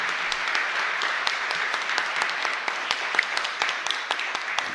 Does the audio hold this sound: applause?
yes